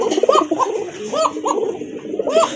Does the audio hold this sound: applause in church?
no